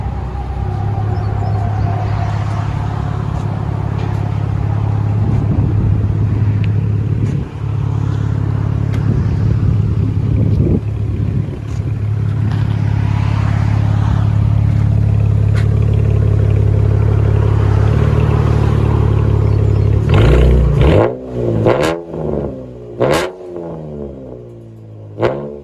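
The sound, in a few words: 2014 Chevy Camaro RS V6 straight-pipe dual exhaust revving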